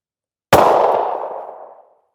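A single sharp gunshot from a Colt 9mm firing a 124-grain National Match Doubletap round, loud and close, with a decaying echo trailing off over about a second and a half.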